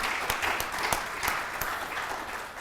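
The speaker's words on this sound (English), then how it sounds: "Please give a warm round of applause for Dr." Warm applause from an audience welcoming a historian to the stage at an event on racial justice, steady dense clapping with a few sharper claps standing out, moderately distant.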